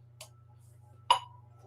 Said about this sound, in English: with the metronome at 69